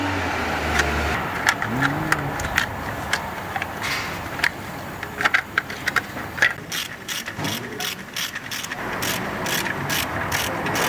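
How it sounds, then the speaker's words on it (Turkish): A hand ratchet clicks in quick bursts while tightening bolts on a Fiat Palio 1.3 engine in a repair shop, with rapid metallic pawl ticks repeating through the clip over a faint workshop hum. "On lokmayla sıkıyoruz."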